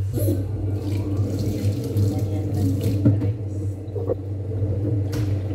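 Shrimp are washed under a running kitchen tap, with steady water flow and splashing over a low hum and soft handling noises nearby.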